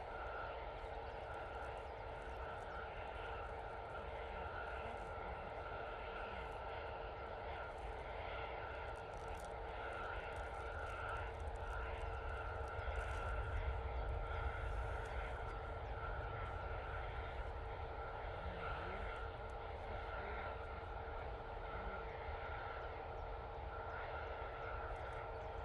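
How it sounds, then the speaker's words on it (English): A Swiss Airbus A320neo arriving from Zurich on approach to Manchester Airport, a steady broad engine roar that holds at a constant level throughout with a slight swell midway, heard from a distance and continuously. "Swiss A320 Neo coming in from Zurich now."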